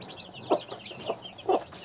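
A broody hen clucks low and steady to call her chicks to feed, three louder clucks standing out over continuous high peeping from the chicks nearby.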